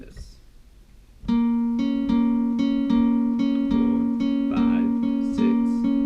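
A guitar plays the lead riff of a song, a steady repeating riff with sustained harmonic notes, starting after a quiet moment and continuing evenly to the end.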